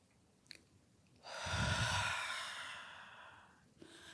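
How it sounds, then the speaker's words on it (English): A deep demonstration breath taken slowly through the body, one long audible inhale-exhale that swells and fades over a few seconds, close and alone in a quiet room. "Taking a few deep breaths, like deep breaths like this, right?"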